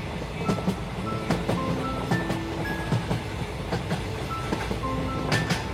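A train runs at night in a cartoon ghost story, a steady rumbling roll with faint rhythmic clicks of wheels and thin metallic squeals, continuous and moderately close, with no voice over it.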